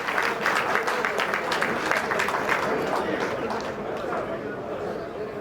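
Sustained applause from a seated audience at a Rotary District 3211 Foundation seminar, dense steady clapping that fills the room and tapers slightly toward the end, with faint crowd murmur mixed in.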